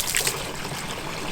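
Thetford Aqua-Chem is poured into the top fill of a Thetford Porta Potti 565E Curve electric portable toilet, giving a soft, continuous trickle and splash of liquid.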